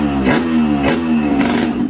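A motorcycle engine revs loudly and close, its throttle blipped three times in a steady rhythm, each surge rising and falling in pitch over a constant rough idle.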